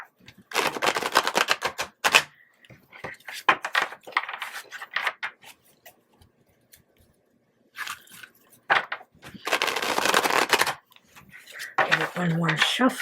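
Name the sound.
shuffling tarot cards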